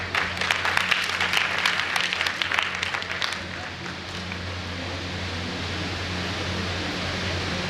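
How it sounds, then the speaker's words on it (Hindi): An audience at a school prize distribution ceremony at Al Qalam Anglo Arabic High School in Khargone claps in a brisk burst for about three seconds, then the applause gives way to a steady hiss of room noise. "Please put your hands together, तालियों से स्वागत करें।"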